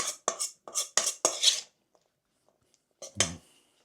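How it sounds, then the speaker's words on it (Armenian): Bean and tomato salad stirred in a bowl, giving a run of five quick wet clatters of utensil against the dish, a pause, then one more scrape-and-clink, close and fairly loud. "Պետք է այսպես մի հատ լավ էլի նորից խառնում ենք։"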